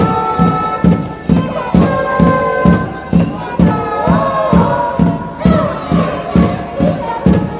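A large stadium crowd at a women's Frauen-Bundesliga football match between Hoffenheim and Wolfsburg chants in steady rhythmic bursts, loud and continuous, with rising whistles and shouts carried over the pulsing roar.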